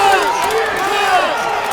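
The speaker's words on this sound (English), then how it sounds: "And this crowd is firing up for Melissa Bartel." A crowd fires up and cheers at a women's MMA fight, a continuous roar of voices filling the arena while a commentator talks over it.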